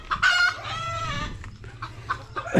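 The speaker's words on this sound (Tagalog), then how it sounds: "may manok pala. Bakit dyan ka mangitlog?" A hen on a rural property clucks and calls loudly and close by, with a drawn-out crowing-like squawk followed by several shorter clucks and no talking.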